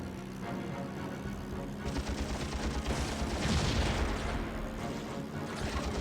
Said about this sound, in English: I see a tank down there shooting at me